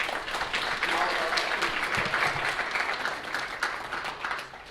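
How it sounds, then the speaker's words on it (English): An audience at a Teacher of the Year breakfast at The Marigold claps for teachers in a steady, moderately distant round of applause, filling the room for several seconds. "I'd like to give a round of applause for all of our teachers"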